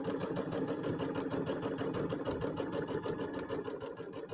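A domestic sewing machine runs steadily while stitching a quilt border with a quarter-inch seam, a continuous close, even mechanical whir with fast rhythmic needle pulses throughout.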